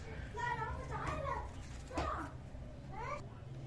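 Children play nearby indoors, giving off several short, high-pitched squeals and chattering bursts in a loose, irregular rhythm. The sounds are moderately loud and close, with no other talk over them.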